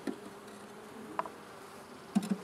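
A shrinking honeybee swarm clustered in a hive box, giving a steady, low insect drone close by with a few louder buzzes as individual bees pass near.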